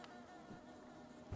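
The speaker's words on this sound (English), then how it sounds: "I thought I heard more bees around here." Bees buzz in Hollow Knight, a steady, fairly faint insect drone under game ambience, swelling slightly louder at the very end.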